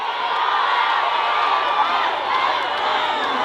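A large outdoor festival crowd at a Korean trot singer's concert keeps up steady cheering and shouting, loud and continuous throughout with no pauses.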